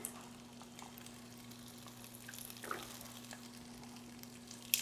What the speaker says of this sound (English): gonna throw in our green beans right into our pan